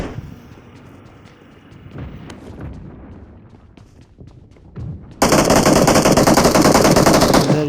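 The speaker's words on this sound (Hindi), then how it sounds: "इधर ये भाई बहुत सारी गोलियां चला रहे थे।" Video game gunfire in a fast multiplayer shooter match: a dense, loud burst of rapid automatic fire erupts suddenly and runs continuously after scattered quieter shots and clatter.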